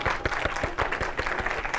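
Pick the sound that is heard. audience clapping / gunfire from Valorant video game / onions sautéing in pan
audience clapping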